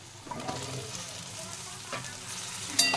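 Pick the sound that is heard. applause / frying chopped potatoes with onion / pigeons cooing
frying chopped potatoes with onion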